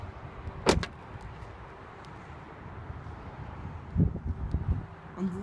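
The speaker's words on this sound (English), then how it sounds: "you just hit this little silver button to lock, just as easy as that, and then you grab behind to unlock" Door lock on a 2014 Jeep Grand Cherokee Limited 4x4 worked by keyless entry, with a sharp click early and a second cluster of clunks a few seconds later, close up, against faint outdoor wind.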